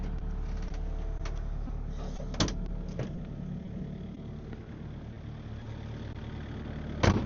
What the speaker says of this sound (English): Let's go get in the skid steer.